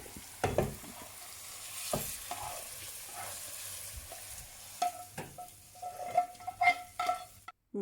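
Hot tempering is poured into cooking dal, bringing a sharp sizzle, then stirring with scattered metallic clinks of a spoon against the pot, close and fairly quiet, ending abruptly.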